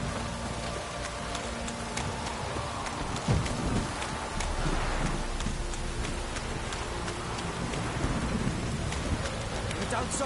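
Steady rain pours over a stormy scene in the Witcher video game, with low rumbles of thunder rolling beneath the constant hiss of falling water.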